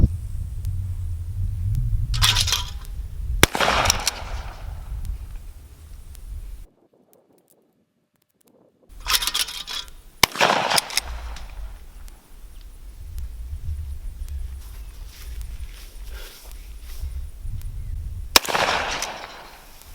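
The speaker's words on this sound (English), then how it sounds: "we had some fun today shooting the 16 gauge shotgun" A 16 gauge shotgun fired outdoors: about four sharp, loud blasts with trailing rumble, separated by pauses, a short silent gap, and some handling noise between shots.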